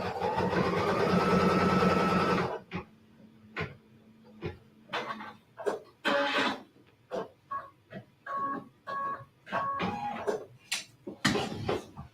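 A sewing machine runs a steady quarter-inch seam stitch for about two and a half seconds, then stops and starts in short bursts, with brief clicks and mechanical whirs between runs, close and moderately loud.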